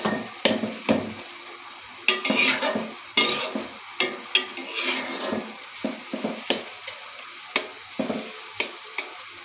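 Colocasia greens cook with prawns in a pan, giving a low continuous sizzle broken by regular clacks and scrapes of a spoon stirring against the metal, close and fairly quiet.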